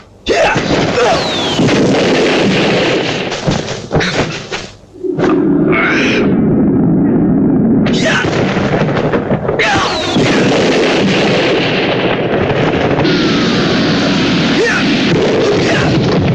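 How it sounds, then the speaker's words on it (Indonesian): A series of loud explosive blasts and booming crashes from the cadas ngampar magic spell in a Saur Sepuh radio drama, with rumbling noise filling the gaps between the bursts. "Bunyi ledakan ajian cadas ngampar tadi terdengar sampai ke pinggiran bukit."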